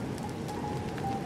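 Steady rain patters on surfaces in The Legend of Zelda: Tears of the Kingdom, a dense even hiss with faint droplet ticks, alone and without talk for the whole stretch.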